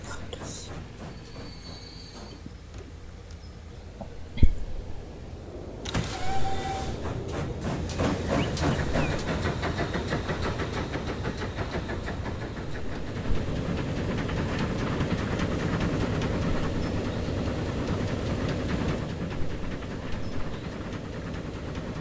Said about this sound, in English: we kind of just do our next leg with our steam train